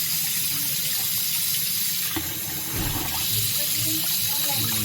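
Tap water runs and splashes over a Doogee S Mini rugged phone during a waterproof test, a continuous close gushing with shifting splash texture as the handset is moved under the stream.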